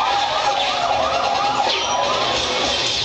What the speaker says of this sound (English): Just follow the siren.